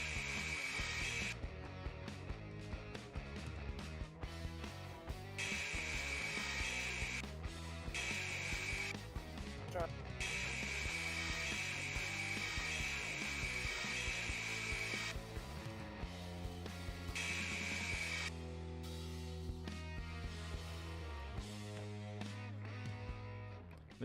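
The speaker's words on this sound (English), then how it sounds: "Then you take your round sword to the grinder." Sword held to a grinder in the video game Fantasy Blacksmith, repeated harsh grinding bursts starting and stopping over a continuous game soundtrack, with no talk.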